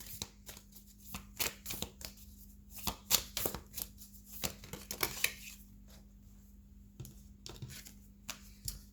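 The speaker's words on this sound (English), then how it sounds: "So I'm just going to grab some cards to clarify." Tarot cards being shuffled and drawn, a quiet series of sharp riffling flicks and slaps at irregular intervals, close by, with a faint steady hum underneath and no talking.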